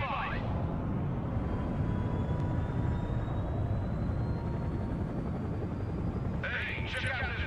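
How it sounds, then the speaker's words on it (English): Helicopter rotor and engine noise from the Broken Arrow video game, a steady dense rumble held through the whole stretch with a brief higher whine near the start and end, with no speech over it. "A lot of helicopters as well."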